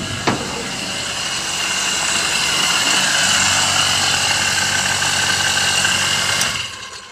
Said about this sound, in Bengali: বেশ কয়েকজনের জল নেয় আমার এই মোটর থেকে।